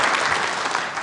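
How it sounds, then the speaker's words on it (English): Brief burst of dense applause from a political party conference audience, a steady wash of many hands clapping at once throughout, loud and close with no voices on top. "Yes, you can applaud that as well."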